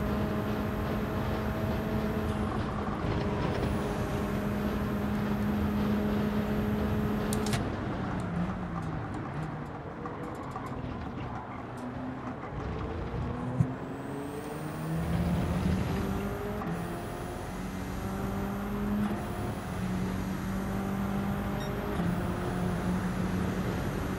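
A Corvette racing car in Gran Turismo 7 drones steadily throughout, with engine tones rising and falling through gear shifts over a continuous rumble, alone without talk.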